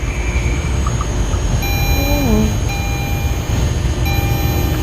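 A train passes a level crossing in the Polish Car Driving game, a steady loud rumble with thin tonal whines and a brief gliding pitch drop midway.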